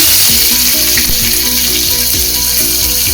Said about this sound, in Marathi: मी त्याला फोडणी घालत आहे लसणीची.